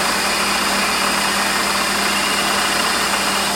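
Drill bit cutting through metal on a Warco lathe in a home workshop, a steady, fairly loud whine and hum with a constant, even texture throughout, no voices.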